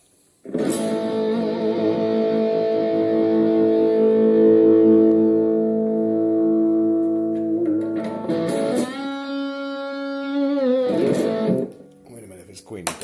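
Electric guitar with a distortion pedal played through a Yamaha THR10 amp, a loud sustained chord ringing for several seconds, then a higher bending held note, fading near the end.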